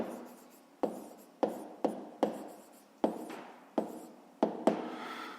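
Pen strokes on paper while writing out a grade 5 math problem, eight or so short scratchy taps and scrawls in an uneven rhythm, close and fairly quiet, no voices.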